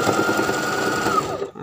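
A sewing machine stitches a sleeve extension onto a short-sleeved T-shirt, running steadily and close for over a second with an even whirring drone before winding down and stopping.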